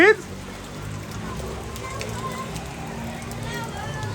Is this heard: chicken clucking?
no